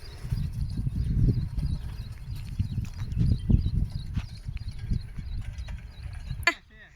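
A bullock walks along a village track, its hooves thudding in an uneven, steady clip-clop close by, with faint creaking mechanical sounds, before the noise cuts off abruptly.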